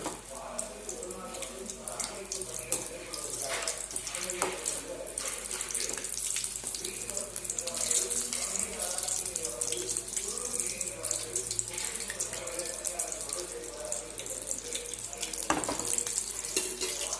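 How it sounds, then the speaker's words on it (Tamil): Chicken pieces frying in hot oil in a pan, a continuous close hiss and crackle of spattering oil running throughout, with faint speech in the background. "இது நல்லா ஃப்ரை ஆகட்டும்."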